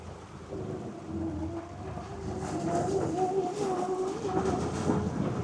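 A Polaris Ranger Kinetic electric UTV creeps slowly through mud in low-range four-wheel drive, a steady low rumble with a faint electric motor whine rising and falling, with muddy sloshing throughout.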